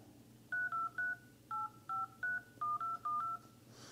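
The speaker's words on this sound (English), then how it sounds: "You can simply just type in your phone number." Keypad tones from the phone dialer of an LG Aristo 5 smartphone: about a dozen short, clean DTMF beeps tapped in a quick uneven rhythm, alone and close with no talking.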